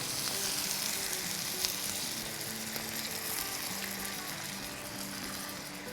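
Malai seekh kebabs in a pan with milk bubble and sizzle in a steady, close hiss, with a few soft knocks and no talking.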